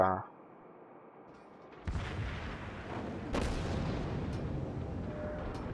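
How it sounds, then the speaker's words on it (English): Naval guns fire during a World of Warships battle: after a quiet start, a sudden dense roar of rumbling, crackling gunfire erupts and continues steadily, with a sharper blast partway through. "a lot of them have auto guns when they shoot like fast, kind of like a machine gun in a way"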